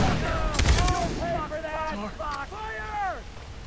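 Grenade blasts and bursts of gunfire in the Far Cry video game, loud and close. Excited shouting plays over the sounds.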